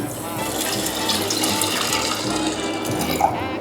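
Three cups of water poured into a saucepan holding coriander seeds, cloves, birch bark and roots, a steady continuous splashing pour that runs throughout at close range.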